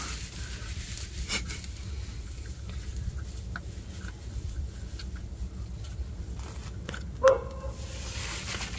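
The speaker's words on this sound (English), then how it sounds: "I just said, uh-oh, dog's barking." A dog barks faintly in the distance, with one brief, louder yelp standing out over low background hum during a car repair job.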